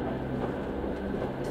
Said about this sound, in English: carried by the sound of the train